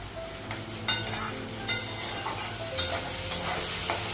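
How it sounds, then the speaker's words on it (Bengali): Potatoes and onion fry in oil with a steady, close sizzle. Scraping stirs break through it every second or so, and no one speaks. "আলু আর পেঁয়াজটা একটু ভেজে নেব"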